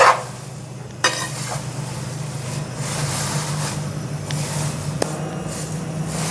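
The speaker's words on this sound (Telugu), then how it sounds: "ఈ విధంగా క్రిస్పీగా వేయించుకోవాలి" Poha fries crisply in a kadai over a medium flame for poha chivda. A continuous close hiss and sizzle carries a low steady hum from the burner, with a couple of sharp stirring knocks near the start and end and no talk.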